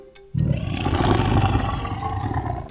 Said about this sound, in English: The leopard makes a snarling sound.